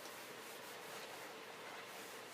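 A Swiffer cloth wipes stray embossing powder off a crafting counter, giving a steady, soft rubbing swish that runs continuously and close by at low volume, with no voices.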